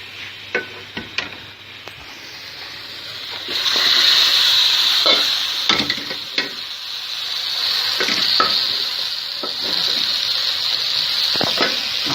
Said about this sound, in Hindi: ये अब हम इसमें गोश्त डालेंगे।